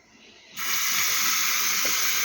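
Cold tap water suddenly gushes over soft boiled beets in a kitchen sink, a steady, loud, hissing stream that starts after a brief quiet moment and runs on unbroken.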